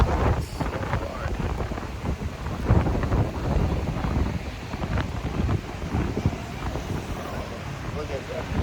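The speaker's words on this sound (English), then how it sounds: "that wind is just blowing so hard" Strong wind roars steadily into the microphone with gusty buffeting during Tropical Storm Fengshen in Hoi An, Vietnam, a dense, rumbling blast that stays loud throughout the clip.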